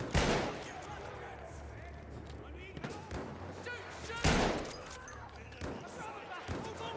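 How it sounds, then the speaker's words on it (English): Several sharp, loud gunshots ring out at irregular intervals in the Battlefield 1 video game, and a player talks between them. "Am I the only one shooting here?"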